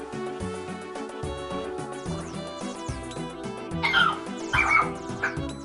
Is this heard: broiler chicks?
no